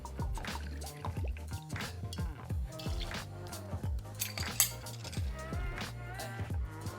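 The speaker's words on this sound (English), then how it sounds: "Start by adding 2 ounces of whiskey." Bourbon whiskey poured into a cocktail tin gives a close, gurgling trickle with rhythmic glugs and drips, plus light metallic clinks.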